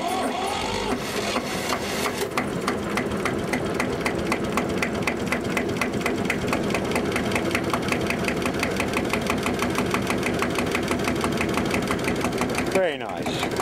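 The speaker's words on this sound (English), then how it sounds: "This is the original engine. It was the 160th one built in 1971." An original 1971 diesel engine, the 160th ever built, runs steadily at idle with a fast, even mechanical knock that stays loud and close for the whole stretch before a brief shift near the end.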